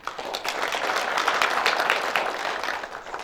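Sustained applause from an audience at a journalists' day commemoration ceremony, steady and fairly dense clapping that holds for a few seconds with no voices over it.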